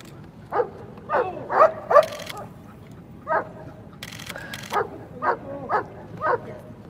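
A dog barks in a series of short, sharp woofs and yips, spaced irregularly, close by, with faint background noise between them.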